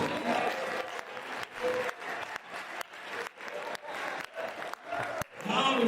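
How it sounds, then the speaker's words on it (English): An audience at a startup panel event in New Orleans applauds, with steady, dense clapping throughout and a few faint voices mixed into the crowd noise. "give a round of applause"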